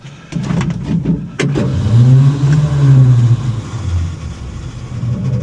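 An old Dodge that has sat for years cranks on its starter and nearly catches, with a low rough churning that surges and sputters for several seconds, loud and close.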